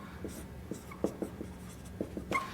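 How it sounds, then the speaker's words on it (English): Chalk or a marker scrapes and taps on a board in short irregular strokes, close and fairly quiet, with no talking. "I'm going to write it out."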